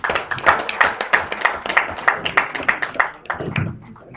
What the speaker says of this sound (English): I think our chairman needs another round of applause.